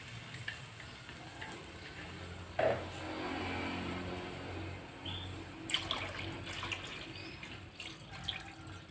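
Leftover tofu-boiling water pours from a pot into a pan while cooking opor, a steady splashing stream with a sharper splash partway, fairly quiet and without speech.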